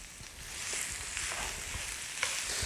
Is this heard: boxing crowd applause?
no